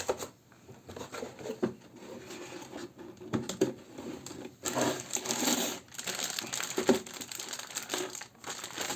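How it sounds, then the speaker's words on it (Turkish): A motherboard for an AMD Ryzen 5 3350G Pro APU PC build is pulled from its anti-static bag, producing close, continuous plastic crinkling and rustling in uneven bursts with short pauses. "anakartımızı statik poşetinden çıkartıyoruz"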